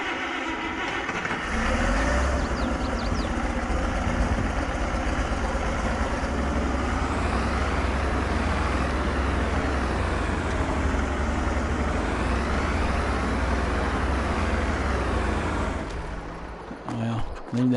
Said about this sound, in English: Got to line the tractors up now.